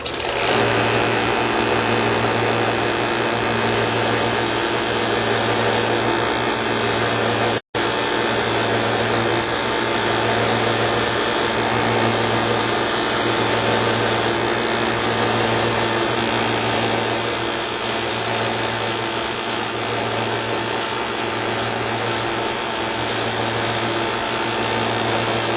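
Steady whirring drone of a power sander lightly grinding a wooden cigar box guitar neck, continuous and loud, with a brief cut-out partway through and faint shifts in pitch.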